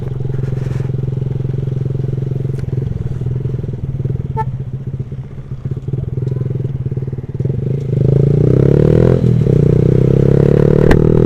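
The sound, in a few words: motorcycle engine running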